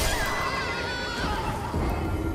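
A horse in Elden Ring lets out a loud, close whinny with a shaking, wavering pitch that holds for about two seconds over steady game background noise, with no talking.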